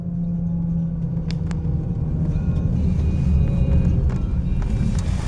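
A faulty truck with a suspected bad axle gives off a steady, loud low rumble and drone, with a few faint clicks and squeaks over it and no talking.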